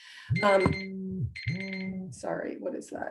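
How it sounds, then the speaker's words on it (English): A phone alarm going off during an online meeting, sounding as two bursts of repeated electronic tones, loud and close, followed by a person speaking. "that's my alarm telling me I'm supposed to be giving a talk"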